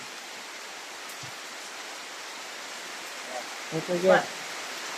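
Steady rain hisses throughout, falling at a billiard hall, with a few brief voice sounds surfacing near the end.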